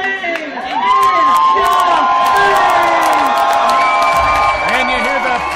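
A hometown crowd at the IWC Proving Ground 5 wrestling show roars for a debuting wrestler's entrance, loud sustained cheering with whoops and high shouts, and a commentator's voice in the mix.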